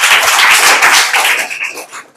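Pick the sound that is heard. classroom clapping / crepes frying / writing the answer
classroom clapping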